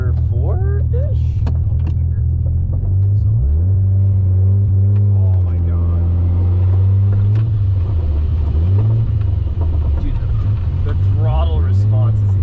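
Mazda FC RX7 rotary engine heard from inside the car during a street tuning pull, a loud steady drone that rises and falls with revs, while people talk over it.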